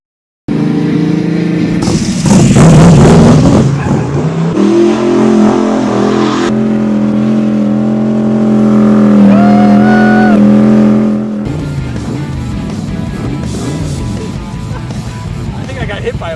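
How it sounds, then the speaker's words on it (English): Classic car fitted with a race car engine roars loudly as it accelerates on a ride, the revs climbing and holding, then easing off toward the end while people talk over the engine noise. "This basically was a motor that they pulled out of one of their race cars. And it's loud."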